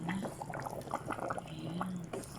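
Potatoes being stirred in a cooking pot of meat and vegetables, giving soft wet scraping and liquid sloshing with occasional light clinks, close and moderately quiet.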